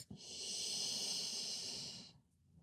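One long, steady, hissing breath taken in a resting yoga pose, close and soft, about two seconds long and then fading into near silence.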